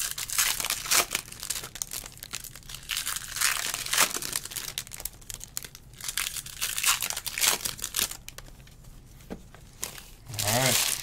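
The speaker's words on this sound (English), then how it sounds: "Basically ripping everything on the mat right now." 2021 Bowman Chrome card packs are ripped open at close range, with bursts of crinkling and tearing foil wrappers coming in uneven handfuls while a voice talks intermittently.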